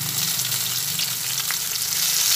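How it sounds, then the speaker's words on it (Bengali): Spice paste with grated ginger frying in hot oil for a potato and pointed gourd curry, a steady, close, dense sizzle with soft crackle throughout and no talking. "এরপরে যে মশলাটা আগে রেডি করে নিয়েছিলাম সেটা তেলের মধ্যে দিয়ে দিলাম"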